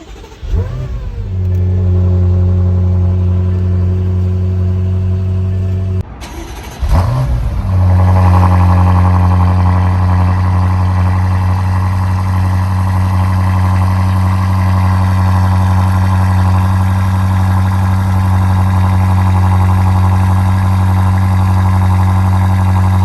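A BMW F90 M5 Competition fires up with a sharp crank and flare, settles briefly, restarts with another burst, then holds a steady, rumbling idle close by.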